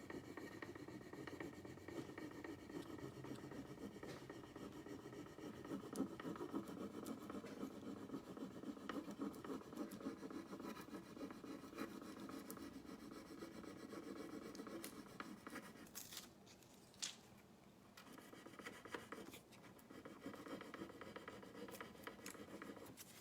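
Soft, continuous rubbing and scratching as a furniture transfer is pressed onto a wooden surface, quiet and close, with a few brief louder scrapes near the end.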